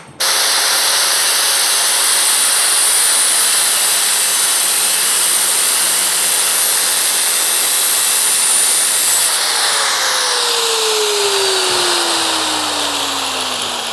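Loud, continuous high-pitched grinding roar of a cutter through a metal exhaust pipe, holding steady and then shifting down in pitch as it winds down near the end.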